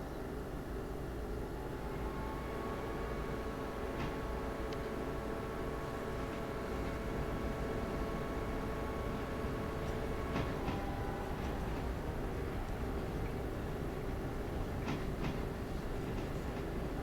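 A train rolls along in the Railroader video game to couple onto a caboose, a steady rumble and drone with faint periodic clicks and squeaks, continuous throughout.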